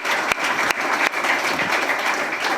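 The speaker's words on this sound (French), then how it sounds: "On peut applaudir justement ce témoignage et ce parcours." An audience claps steadily after a testimony at a charity evening. The applause is dense and continuous with a few sharper individual claps standing out, and there is no talk over it.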